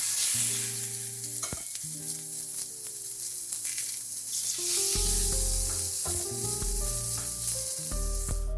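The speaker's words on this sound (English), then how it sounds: "it should have a sizzling sound like this." Chicken breast sizzles loudly in hot olive oil in a pan, a close, constant crackling hiss broken by stirring and scraping noises, with no talking.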